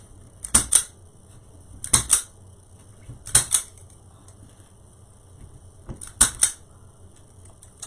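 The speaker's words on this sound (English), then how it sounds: "Let's cut off our zip ties." Plastic zip ties being snipped off a wreath board produce four pairs of sharp, close clicks spaced a second or more apart against a quiet background.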